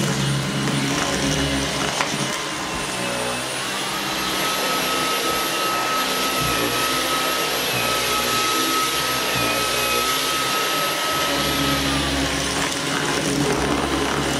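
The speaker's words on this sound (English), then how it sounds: "I can hear the vacuum automatically picks that up and uses a different suction or power" A Dyson V11 Outsize cordless vacuum cleaner runs continuously on the floor with a steady high-pitched motor whine and airy suction roar, its pitch shifting slightly as the suction power changes.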